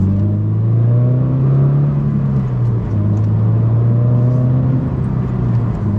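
A 2022 Subaru BRZ's engine drones steadily from inside the cabin as the driver shifts from third down to second, the pitch dipping and then rising again in a continuous loud hum with no talk.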